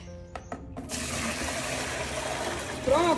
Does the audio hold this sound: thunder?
no